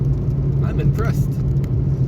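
A car engine holds a steady, droning hum at about 2,900 RPM, heard from inside the car while people talk over it.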